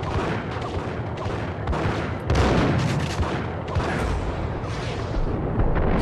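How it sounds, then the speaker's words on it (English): Dense, continuous gunfire from the video game Max Payne, loud and sustained throughout, with overlapping bursts and a heavier blast partway through and no talk over it. "Someone's shooting"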